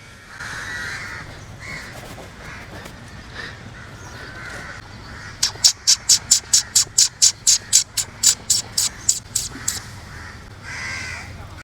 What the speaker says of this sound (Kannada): ನೋಡಿ ಬರ್ಡ್ಸ್ ಚಿರ್ಪಿಂಗ್ ಸೌಂಡ್ ನೋಡಿ ನೀವು